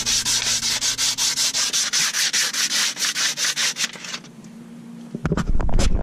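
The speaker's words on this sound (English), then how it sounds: "now we're gonna take some sandpaper real quick" Sandpaper scrubs a car brake caliper in rapid back-and-forth strokes, a harsh rhythmic rasping close to the ear that stops near the end, followed by a few clunks and handling noises.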